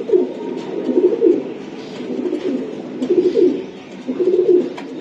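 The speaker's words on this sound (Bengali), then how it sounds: "অনেক চঞ্চল একটা জোড়া কবুতর।" A pair of racing pigeons coo close by, low throaty rolling calls repeating in bursts over about five seconds.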